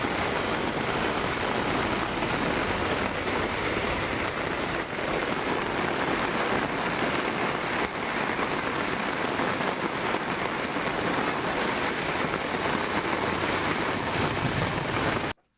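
Heavy rain falls in a steady, dense roar, with drops drumming on surfaces across a wide area; the sound stays loud and unbroken for about fifteen seconds, then stops abruptly, with no voices.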